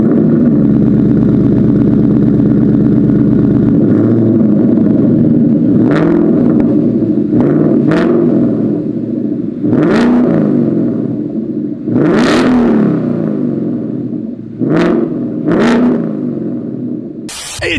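A 2019 Ford Mustang GT idles with a deep burbling exhaust, then gets blipped in a run of loud, sharp revs, roughly eight throttle stabs of rising and falling engine note, close by and with no talking.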